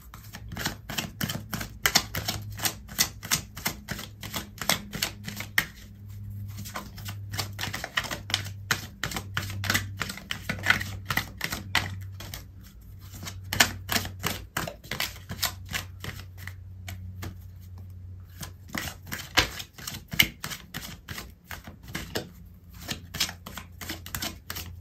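Tarot cards shuffled and pulled during a love reading, a long run of rapid crisp riffling clicks with brief pauses between bursts, close and fairly loud with no talking.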